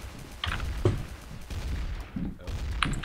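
Gunshots in Garry's Mod Trouble in Terrorist Town come as a few sharp, separate cracks with low thumps, fairly close and moderately loud, over background game noise with no clear talk.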